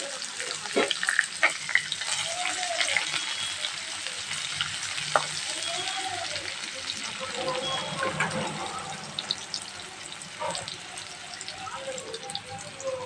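Onions frying with curry leaves in a pan for gravy, giving a steady close sizzle with stirring scrapes throughout while a person talks over it.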